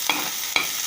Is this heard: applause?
no